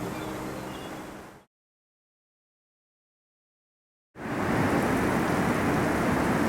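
Rain falls steadily on a stormy day at a seal beach, with the broad wash of the downpour and a rumble of thunder. The sound breaks off into silence for a few seconds, then returns even louder and closer.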